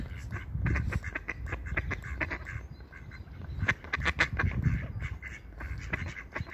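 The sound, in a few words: ducks quacking and complaining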